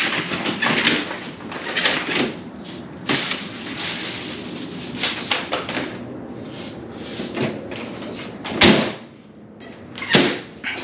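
Truxedo Sentry hard rollup tonneau cover being rolled down on a Ford Maverick bed, giving a steady close rattling roll with a few sharp knocks and clacks near the end, no talking.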